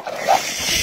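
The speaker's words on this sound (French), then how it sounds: "tu grognes parce que tu protèges tes affaires et en plus, t'es attachée" A tethered, abandoned dog growls briefly and close while guarding its belongings, a short, rough, low rumble under faint background noise.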